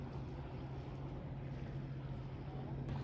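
Steady low droning rumble of a boat passing on open water near a rocky coastal park, mixed with continuous wind noise, constant and unbroken throughout.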